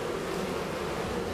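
Buckfast honeybees buzzing at an open hive, a continuous, fairly faint, dense hum with no voices.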